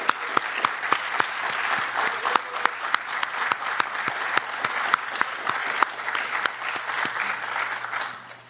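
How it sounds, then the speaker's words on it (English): Audience applause for poetry recitation students at a state poetry recitation final, a dense sustained clapping with sharp individual claps standing out, steady throughout and fading at the very end. "Please give them a round of applause."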